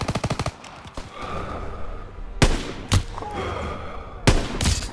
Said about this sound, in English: Gunfire! We must be near our guys.